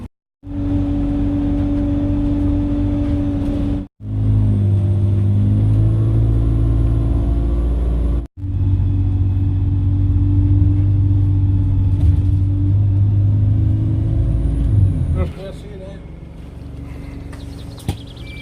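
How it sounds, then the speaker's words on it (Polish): A bus pulls in and drives off near Pitlochry in Scotland, its engine a loud, steady low rumble with revving, interrupted by two brief cuts and easing off toward the end. "Nadjeżdża mój kolejny autobus"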